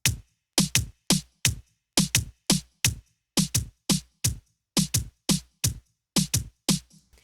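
Sharp drum hits strike one after another in a steady, slightly uneven rhythm, each punchy and quickly decaying, with silence between them.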